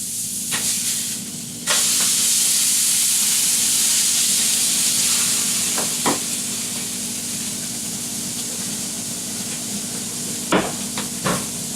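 Hamburger patties sizzling in a hot pan for a pepperjack cheeseburger, a loud continuous hiss and spatter with a few sharper crackles and bursts standing out.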